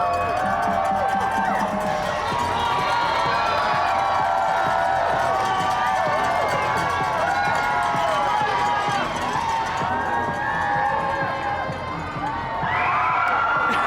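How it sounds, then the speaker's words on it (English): A cheer squad performs on the asphalt at the Las Vegas Pride Parade, with a crowd shouting and cheering continuously and voices chanting together over busy street noise. "They're gonna try and do a little cheer for us."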